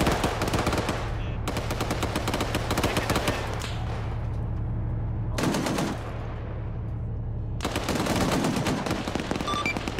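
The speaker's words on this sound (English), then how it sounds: "There's the autocannon of the Bradley now opening up on a few guys" A Bradley's autocannon fires in a video game as loud, rapid-fire bursts, some lasting a couple of seconds, separated by short pauses.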